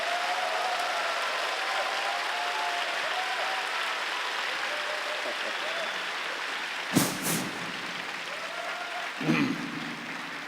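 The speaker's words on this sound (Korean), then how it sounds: "박수로 뜨겁게 환호와 함께" Audience at a church young adults' worship service applauding and cheering to welcome President Kim Young-gil, steady dense clapping from a large crowd across the room, with a couple of bumps and thuds near the end.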